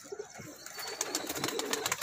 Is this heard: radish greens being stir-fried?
no